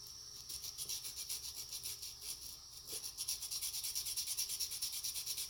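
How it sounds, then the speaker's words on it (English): Sandpaper in the 80 to 240 grit range scrubs back and forth over a small carved wooden fishing lure, with quick, even strokes up close and no talking. "I'm just going to take some 80 grit and then work up to 240 grit"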